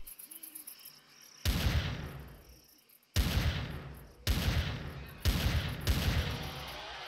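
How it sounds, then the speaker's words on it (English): Sniper rifle shots in the sci-fi survival game Empyrion, four loud sharp reports roughly a second apart, each with a long ringing decay, over faint insect-like night ambience. "So we christen our sniper rifle."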